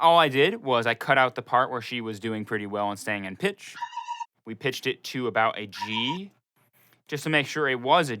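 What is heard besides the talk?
None of the usual background noises is heard.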